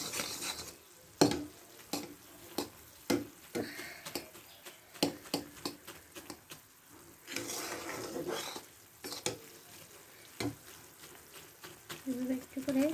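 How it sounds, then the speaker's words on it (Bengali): Plum pickle stirred in a pan as it foams, a spoon scraping and clacking against the pan in a steady irregular rhythm over a soft sizzle, close and moderately loud. "এভাবে ফেনা উঠলে ভয় পাবেন না, একটু অনবরত নেড়ে দিলেই ফেনাগুলো আস্তে আস্তে"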